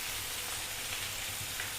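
Ridge gourd and potato pieces frying in oil for a Bengali mustard-poppy seed dish, giving a steady soft sizzle with a faint low hum, close and continuous with no voices.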